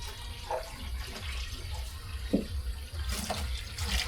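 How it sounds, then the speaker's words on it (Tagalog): Water is sprayed while cattle are washed and watered, running and splashing in a continuous stream, with a few soft drips and clinks over a low background rumble. "I-sprayin ko lahat ng tubig"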